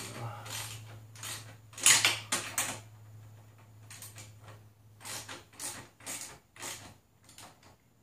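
A ratchet with a 12mm socket snugs an exhaust bolt on a 2015 Yamaha YZF-R3 fitted with a Yoshimura R-77 exhaust, heard as repeated bursts of clicking separated by brief gaps, close and moderately loud.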